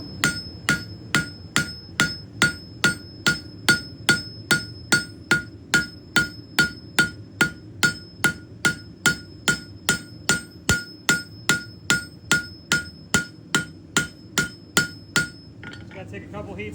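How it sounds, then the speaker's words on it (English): A cross peen hammer strikes hot steel on an anvil while forging and widening a spear socket, ringing out in a steady, evenly spaced series of about thirty sharp, close blows before stopping. "for the socket I'm going to use the cross peen and just kind of widen all this material out."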